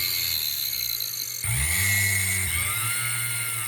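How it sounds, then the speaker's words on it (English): A power drill bores into a wooden Hobbit pipe, its motor whining steadily with a shift in pitch partway through as the bit bites deeper, close and continuous with no talking. "This drill will get me right down to about where I need to be."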